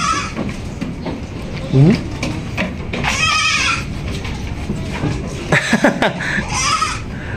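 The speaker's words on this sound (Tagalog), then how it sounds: "Manimahot ang kanding ani Bandol." A goat bleats a few times up close on a goat farm, the cries rising over steady background noise while people talk nearby.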